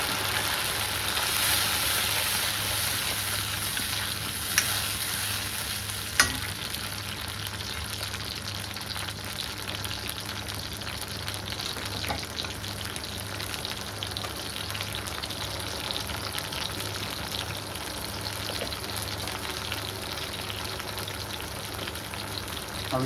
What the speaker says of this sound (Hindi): अब इसको भी पका लेंगे थोड़ी देर के लिए